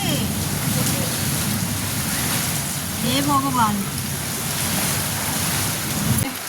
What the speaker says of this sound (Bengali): ঝমঝমিয়ে বৃষ্টি হচ্ছে এখনো, বেশ ভালো বৃষ্টি হচ্ছে